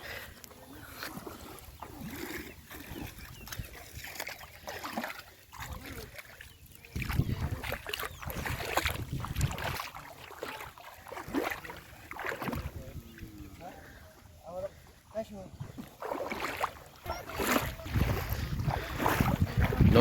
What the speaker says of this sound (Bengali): তাহলে এখন যাই, আমরা নৌকাতে উঠবো